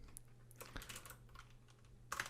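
Quiet, close keystrokes on a computer keyboard type out a short command, a quick run of clicks with a louder cluster near the end, with no voices.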